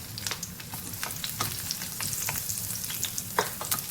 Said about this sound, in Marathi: इकडे पॅनमध्ये तेल टाकलेलं आहे मी। हिरवी मिरची टाकते